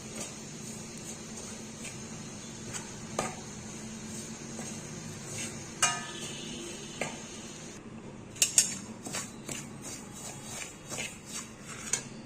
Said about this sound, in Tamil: இன்னும் வறுபடணும் ஒரு மாதிரி சல சல சலன்னு வரும் மணல் மாதிரி அப்போ எடுத்துக்கணும்